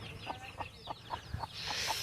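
Chicks of a native Medak breed of country chicken cluck in a quick series of short, faint peeps and clucks, close by and alone.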